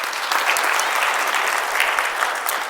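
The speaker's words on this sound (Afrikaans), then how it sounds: "ons gee hom 'n hande klap." Church congregation applauding a first-time visitor, a full, even wash of clapping from many hands across the room.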